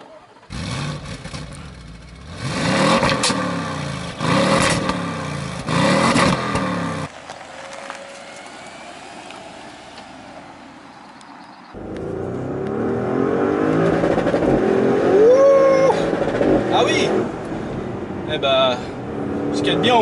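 A 2013 Audi RS6's engine, in manual mode, revs hard in repeated bursts against a bouncing rev limiter, goes quiet for a few seconds, then returns with a louder, steady drone.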